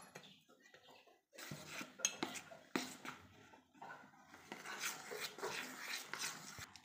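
Urad dal vada batter being mixed in a bowl, with irregular close clinks and scrapes of a utensil against metal, quiet in places and louder in others, and no talking.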